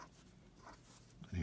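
Marker or pen writing out a linear algebra equation on a board, a soft scratchy stroke sound that is faint and brief, with a louder rustle near the end and no talking over it.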